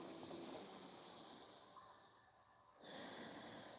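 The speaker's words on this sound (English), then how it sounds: "Breathing through our nose." Nasal breathing during a yoga session, a long airy inhale through the nose that fades, a short pause, then the next breath begins, close and soft with a steady hiss.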